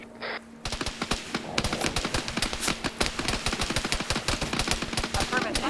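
Rapid bursts of automatic gunfire in the SCP video game, a dense, fast string of sharp cracks in close succession that runs almost continuously after a brief quieter opening.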